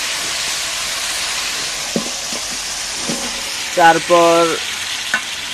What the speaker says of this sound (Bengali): ফুলকপি, ফুলকপির ডাঁটা, তারপর সামান্য কিছু পরিমাণ আলু চারফালা করে দিয়ে দিছে, দিয়ে এখন ভালোভাবে কষিয়ে নিচ্ছি।